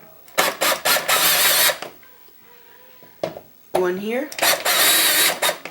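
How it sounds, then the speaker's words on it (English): Screws being removed from a computer power supply panel with a screwdriver, giving bursts of clicking, ratcheting mechanical noise at close range, separated by pauses, with a person speaking briefly in between. "now you need to remove all the screws"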